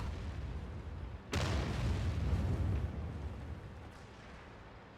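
Tank cannon fire in a tank battle video game: one sudden loud boom that swells into a long rumbling blast and then fades slowly.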